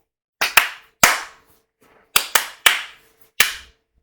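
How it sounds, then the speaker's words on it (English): Hands clap sharply in a quiet room, seven crisp slaps in uneven bursts, some in quick pairs and others spaced apart, each with a short decaying tail. "We get a couple of claps going."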